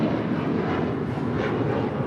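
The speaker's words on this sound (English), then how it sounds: "This is KLM 603 coming in from Amsterdam on a 787-10 Dreamliner" KLM Boeing 787-10 Dreamliner arriving from Amsterdam at LAX, a brief steady jet roar, moderately loud, with no talking.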